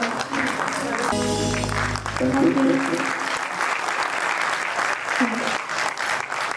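Steady applause fills the room throughout, with a few brief spoken words and some music heard under the clapping.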